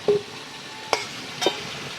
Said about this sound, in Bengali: এখন আমি আলুটা তুলে নিচ্ছি।